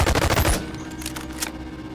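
A loud burst of rapid automatic weapon fire in a shooter video game, about half a second of tightly spaced shots, then fainter scattered pops and ambient noise.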